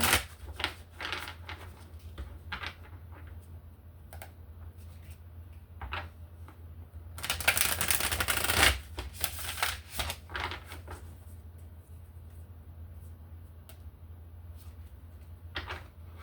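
Angel tarot cards are shuffled close by in quiet surroundings, soft papery riffles and taps building to a brief dense flurry of card shuffling, then fading to light handling sounds.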